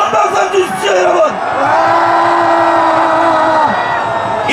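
A large political rally crowd outside in Seoul cheers and shouts in applause, loud massed voices with whoops and a long sustained collective yell, dense and close.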